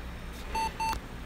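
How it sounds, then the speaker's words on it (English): Two short electronic beeps in quick succession over a low hum, clear and close, the second slightly longer than the first, from a Compaq Presario 6708 computer booting. "Double beep is a good thing."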